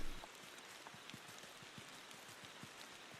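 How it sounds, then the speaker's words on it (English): Rain in the driving video game Motor Town: Behind The Wheel makes a faint, steady hiss, with soft drops tapping irregularly on a surface throughout. "Alright, now it's raining."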